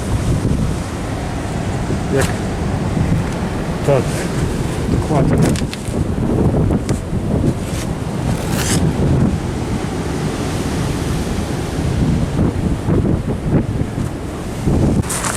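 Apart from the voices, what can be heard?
wind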